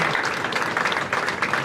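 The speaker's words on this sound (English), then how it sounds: "Please give them a round of applause for all their hard work" Loud, dense applause from a large crowd at an awards ceremony, continuous throughout with no pauses or voices standing out.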